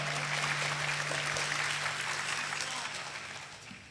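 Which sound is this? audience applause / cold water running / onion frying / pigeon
audience applause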